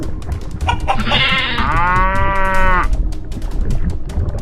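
A cartoon cow lets out one long, loud, close moo that rises and holds, set over busy background music and effects.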